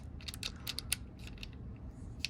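Adjustment knob on a BAUER 20-volt brushless pruning saw being tightened: a quiet series of short clicking, ratcheting ticks at uneven intervals, close up over a low background hum.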